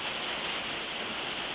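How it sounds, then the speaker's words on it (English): Heavy rain falls outside, a dense, even hiss that stays steady and fairly quiet throughout with no other sounds over it. "Can you hear the rain?"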